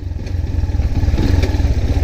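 A 200cc motorcycle engine drones loud and close while riding at speed, a dense pulsing rumble with wind buffeting, steady throughout with no talking.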